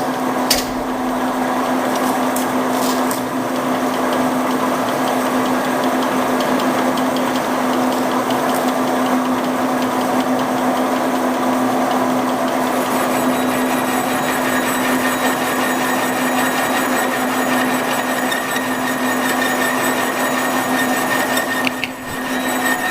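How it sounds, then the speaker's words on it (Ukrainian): A machine boring out a gear blank, the third of three bores in a gear-making job, a steady loud mechanical whine with a strong constant hum running throughout without pause, no talking. "Я вже два розточив, зараз буде третій останній."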